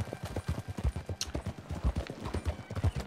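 Horse hooves clip-clopping in Red Dead Redemption 2, a steady rhythmic trot of close, evenly spaced hoofbeats continuing throughout.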